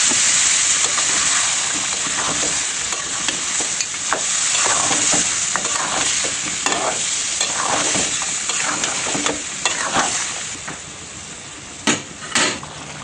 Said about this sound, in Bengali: মাংসগুলোকে একটুখানি ভেজে এরপর দিয়ে দিচ্ছি টক দই এবং ব্লেন্ড করা টমেটো।